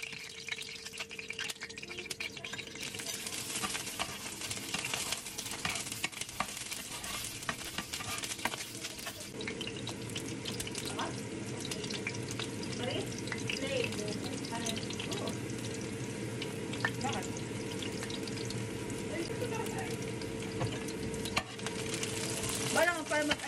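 A home cook stirs and fries food in a pan, with a steady close sizzle joined by scraping and clinking of a utensil, louder and busier after the first few seconds.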